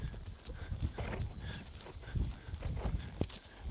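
A horse cantering on a smooth, flat surface, the hoofbeats sounding as steady, close rhythmic thuds with soft clopping, no voices over it.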